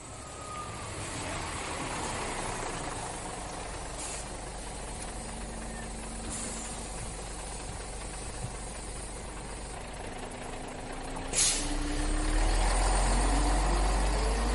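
A bus engine idles in a low, steady rumble throughout, with a sharp hiss of air brake release near the end as the engine swells louder.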